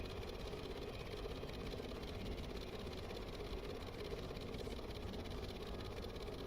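A steady aircraft engine drone in a video game hums continuously at low volume, even and unbroken throughout, with no voices.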